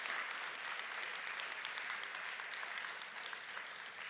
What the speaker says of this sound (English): Let's give everybody a round of applause for who contributed to today's event.